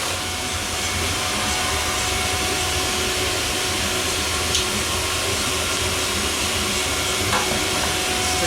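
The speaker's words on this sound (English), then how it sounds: "So that's Venturi hooked up to the shop air." Venturi vacuum pump running on shop air to evacuate a Ford's cooling system, a steady loud rushing hiss that stays constant throughout, with no talk.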